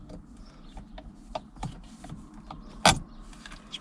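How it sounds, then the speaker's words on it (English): Small metal clicks and taps come from working a split pin out of a car's short shifter linkage, with one sharper knock partway through, close and moderately quiet over faint mechanical background noise. "Now I have this split pin to take out."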